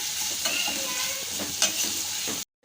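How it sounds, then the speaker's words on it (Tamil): Onions sautéing in a pan for a tiffan dish, a close steady sizzle with spoon scrapes and stirring taps, cutting off abruptly just before the end. "வெங்காயம் வந்து வதங்கி வரணும் மிக்ஸ் பண்ணிக்கலாம்"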